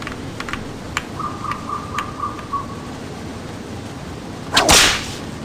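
A sharp, loud whip crack near the end from Indiana Jones and the Infernal Machine, following a few soft clicks and a brief chirping tone in a quiet game scene.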